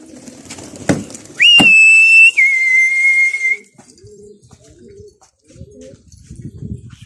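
Pigeons outdoors, with soft low cooing phrases repeating in the latter half after a loud sustained whistle and a couple of sharp knocks near the start.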